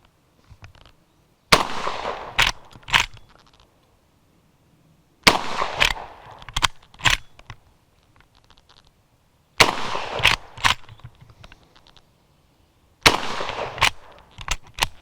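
A Century Arms PW87 lever-action shotgun fires Remington shells outdoors in four loud groups of sharp blasts, each followed by a quick clatter of cycling the action, with short quiet gaps between groups.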